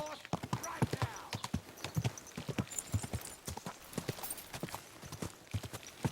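Rapid clip-clop of horse hooves in a rhythmic gallop in the video game Kingdom Come: Deliverance II, close and clear, with a voice shouting over it and a brief whinny.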